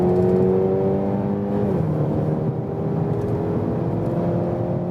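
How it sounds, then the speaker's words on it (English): An Audi or BMW sedan in sports mode accelerates hard from 100 km/h, its engine note climbing steadily through a gear, then shifting and pulling again over road and wind noise, close and loud. "we go from 100 kilometers this time and accelerate it out"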